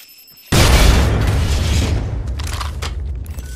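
A sudden, loud blast from an explosion in the video game Apex Legends, with a booming low-end rumble that lingers and slowly fades over several seconds.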